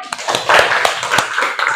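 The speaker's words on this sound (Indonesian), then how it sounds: "Iya, tepuk tangan dulu ya." A short burst of classroom hand clapping from schoolchildren, a quick patter of overlapping claps lasting under two seconds, close and lively.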